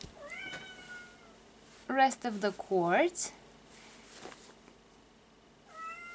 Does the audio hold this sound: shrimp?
no